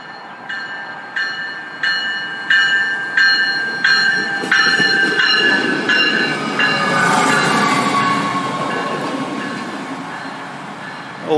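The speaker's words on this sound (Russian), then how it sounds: "Light Rail, ну то есть не метро и не электричка, и не трамвай, а что-то посрединке" A light rail train passes through Trenton, New Jersey, with rhythmic clicking wheel beats over rail joints for several seconds, then a smoother rolling rumble and a squealing tone as the cars move by, loud and close, no voices.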